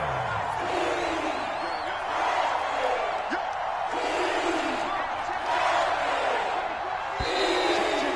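Stadium crowd in a football video game, a steady roaring wash of noise with swelling cheers and whistles, heard throughout at even loudness.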